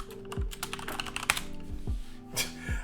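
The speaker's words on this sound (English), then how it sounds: "As we're just typing back and forth." Keys on a computer keyboard clatter in quick, uneven bursts of close, soft clicks, with a few heavier thumps mixed in and no voices.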